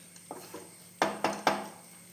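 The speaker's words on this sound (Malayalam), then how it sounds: "പാത്രത്തിലേക്ക് മാറ്റുന്നുണ്ട്" Roasted flattened rice is scraped from the pan into a dish, a few soft taps followed by three sharp, close metallic knocks in quick succession.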